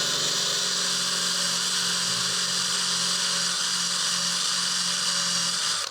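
A power tool spins an adhesive-removal wheel counterclockwise, holding a steady, loud, high-pitched whir for about six seconds without a break before cutting off at the end, with no talking.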